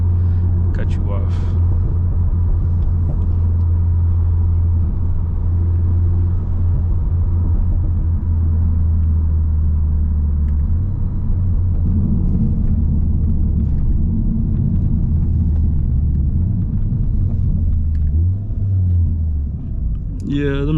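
A steady, loud low rumble of an Audi S3 on the road during a drive, the engine droning continuously with subtle changes in pitch as it shifts up through the gears, and a voice talking over it.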